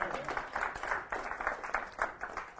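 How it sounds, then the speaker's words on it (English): An audience gives a round of applause, a moderate patter of many hands clapping in uneven bursts for a couple of seconds, fairly quiet and unaccompanied by talk. "Give him one more round of applause."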